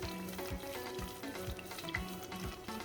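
A wooden mufraka churns a thick Sudanese yogurt stew in a pot with regular, rhythmic scraping strokes, roughly two per second. Each stroke brings a wet slosh, and a faint sizzle runs underneath.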